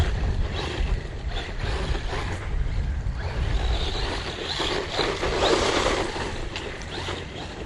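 A 3S brushless Bezgar HP161S RC car races fast over grass, weeds and hills outdoors, giving a continuous rushing, whirring drive noise with rough surges and fluctuations and no talking.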